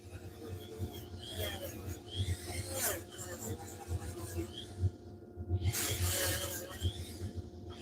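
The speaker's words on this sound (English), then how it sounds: "This Scotch-Brite works awesome for this basswood." A Scotch-Brite pad rubs over carved basswood in repeated rasping strokes, fairly faint, with a low steady hum running underneath.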